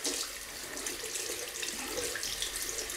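Tap water runs steadily to wet a 24mm synthetic shaving brush at a sink, a close, continuous splashing hiss with no voices.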